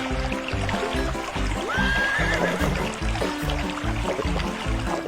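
A horse drinks at a stream in a quiet village, giving a single rising whinny partway through over a steady, rhythmic background of music.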